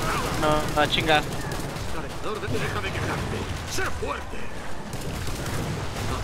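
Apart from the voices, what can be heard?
gunshot in a video game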